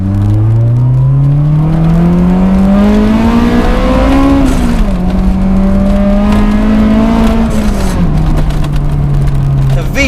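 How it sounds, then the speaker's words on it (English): Honda S2000 engine heard from inside the cabin, revving loudly and climbing steadily in pitch as it pulls into VTEC, with a brief shift dip before holding a high, continuous howl under faint speech. "The VTEC is super loud in here"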